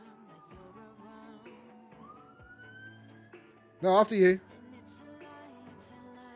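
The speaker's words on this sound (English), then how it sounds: "That's the ambulance going past, in case you didn't know" An ambulance siren wails in the distance, a faint rising and falling tone running steadily under the quiet background, briefly covered by a short spoken line near the end.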